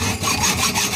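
Hand sawing through a metal threaded rod in a workshop: a close, steady rasping of rapid back-and-forth strokes filling the full second.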